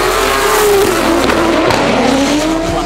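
Drift race cars in a New Zealand drifting championship round, a Toyota 86 among them, rev hard and climb through the gears down the front straight toward turn one, engines loud and close with tire squeal, no talk.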